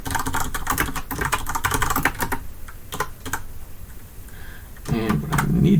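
Rapid keyboard typing on a computer keyboard during Godot game coding, a dense run of close clicks and key taps over the first few seconds, then sparser strokes, with a lower hum rising near the end.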